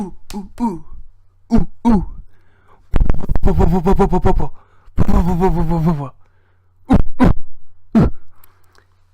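A voice imitates an ape playing the bongos: bursts of hooting 'ooh' sounds alternate with rapid percussive mouth drumming, in short loud phrases separated by silence.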